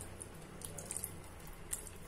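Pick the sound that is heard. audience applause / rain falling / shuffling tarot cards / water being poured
water being poured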